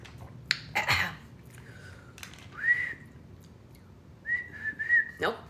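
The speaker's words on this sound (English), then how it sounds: "Jack began to whistle as he waited." A few short whistled notes and rising chirps, interrupted by breathy sounds and small clicks, with pauses between the attempts.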